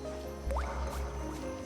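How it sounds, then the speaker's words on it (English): Water droplet sounds from the aquamarine in Final Fantasy XVI, a few bright plinking drips with rising watery tones over a low ambient game hum, short and close. "the water droplet noises"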